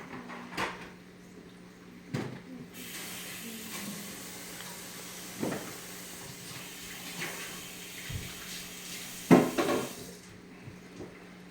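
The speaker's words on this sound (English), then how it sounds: "it's time to dump my pasta" In a kitchen, a pot of pasta is tipped out and drained in the sink, giving a steady rush of running water over several seconds. A few clanks and thumps of cookware break through the wash at moderate volume.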